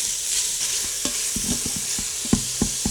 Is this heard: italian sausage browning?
yes